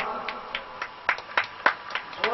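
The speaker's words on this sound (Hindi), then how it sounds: "जोरदार की ताली बजाओ तालियां" Audience clapping at a village gathering, a sparse run of about ten distinct claps in a loose, uneven rhythm, fairly close, with quiet background murmur between them.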